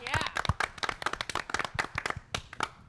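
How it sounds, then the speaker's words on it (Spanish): A studio audience on a Spanish-language TV talk show claps in quick, uneven bursts, close and fairly loud, with voices talking and calling out over the clapping throughout. "Fuerte la aplauso."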